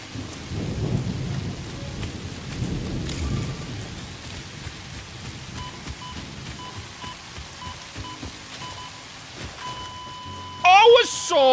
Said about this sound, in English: The thunder.